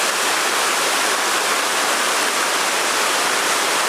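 Floodwater rushes loudly and steadily through a river channel around a bend, a dense continuous roar of turbulent water with no voices.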